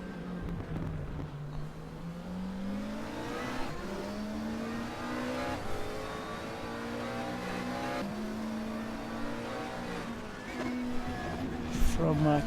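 GT3 race cars, including an Audi, at the Shanghai GP in a racing game, engines revving through rising and falling gear changes close by, while a commentator talks over them.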